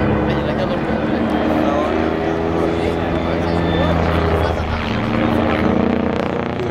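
A Red Bull BO-105 helicopter flies at the La Ferté Alais 2015 air show, its loud, steady rotor and engine drone filling the whole stretch, with voices faintly underneath.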